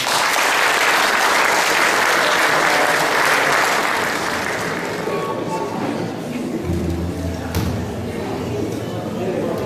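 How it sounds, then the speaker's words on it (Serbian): Dense audience applause at an evening village festival opening in Slatina, loud and sustained at first, then thinning into scattered clapping with crowd murmur and low rumbling underneath. "vi naravno nagradite i njega i našu manifestaciju jednim aplauzom"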